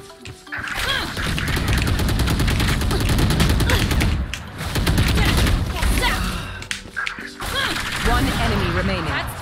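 Rapid gunfire in the shooting game Valorant crackles in dense, loud bursts with short gaps, while a player talks over the action.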